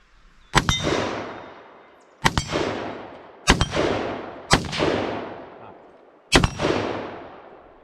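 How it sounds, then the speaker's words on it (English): A 6.5 Grendel rifle fires five loud, close shots outdoors at a water jug target, spaced about a second or more apart, each with a sharp crack and a rolling echo that trails off. "we're gonna fire off a couple mags here"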